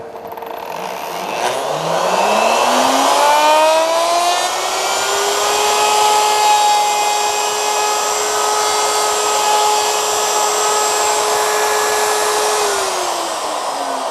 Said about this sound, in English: I already got my router set up with the 3/8 flush trim bit with the bearing on it